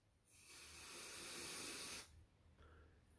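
A can of refrigerant sprays onto a thermocouple in one close, steady hiss lasting about two seconds. It cuts off sharply, followed by a faint background hum.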